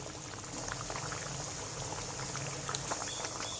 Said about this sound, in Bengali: এবার আমি চিনি রস দিয়ে দিচ্ছি